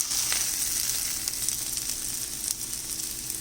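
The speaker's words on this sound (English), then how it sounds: "start adding the chopped garlic to the pan. Ensure that flame is on high level." Chopped garlic fries in a pan over a high flame, giving a loud, constant sizzle with a few sharper crackles and pops.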